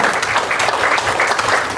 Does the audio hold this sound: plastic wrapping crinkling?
no